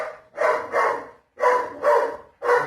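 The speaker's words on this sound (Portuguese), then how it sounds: "Aqui tem um cachorro que enche o saco." A dog barks loudly and close by in quick pairs of sharp barks separated by brief pauses, with no talking.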